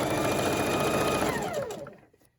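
A sewing machine stitches the last edge of a Christmas table runner, running steadily and loud for about two seconds before slowing and stopping.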